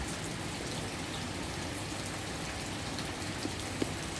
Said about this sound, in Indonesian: mudah-mudahan dengan turunnya hujan hari ini